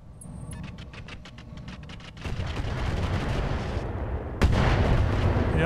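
Enemy mechs in Roguetech fire weapons in a rapid series of sharp repeated shots that build into heavier booming volleys, growing louder with a big impact near the end.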